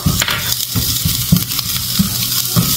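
Garlic fries in a pan for a home-cooked ground meat and vegetable dinner, a loud steady sizzle broken by regular soft knocks of a spatula stirring about every half second.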